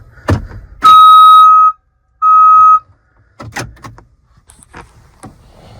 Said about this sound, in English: a backup camera and the reverse beep